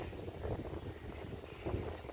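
Steady wind rushing and buffeting against the microphone, a continuous low roar with gusty swells and no voices.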